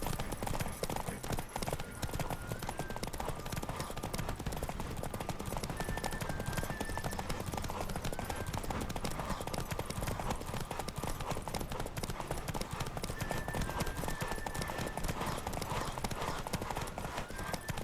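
A horse gallops in The Witcher 3, rapid rhythmic hoofbeats drumming steadily throughout over a busy game soundscape, with occasional tonal game sounds layered on top.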